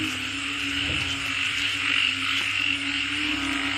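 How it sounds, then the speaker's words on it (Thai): Small frogs croak together in a field, making a dense, continuous chorus that drones steadily at moderate loudness with no voices over it. "ได้ยินเสียงเขียดที่หน้าบ่"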